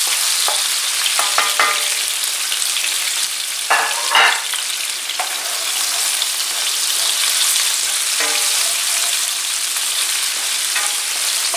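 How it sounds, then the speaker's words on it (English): Garlic and onions fry in hot olive oil in a pan with a loud, steady sizzle throughout, broken now and then by the scrape and clatter of stirring. "Put the garlic and onions."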